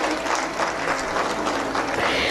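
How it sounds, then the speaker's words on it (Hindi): Audience applause at a school annual function during medal presentations, a dense, continuous wash of many hands clapping at steady loudness, with no talk over it. "देखिए गोल्ड मेडलिस्ट के लिए ये वाली तालियां तो नहीं चलेंगी ना."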